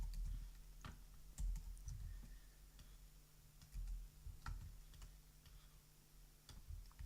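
HTML code being typed on a computer keyboard, irregular runs of soft key clicks and thumps, close but quiet, over faint low background hum with no speech.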